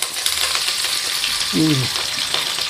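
Three chopped onions fry in a pan in a Bangalore home kitchen, the first step of a mutton curry for Ugadi. A steady, close sizzle hisses throughout, and a short squeaky tone rises and falls midway.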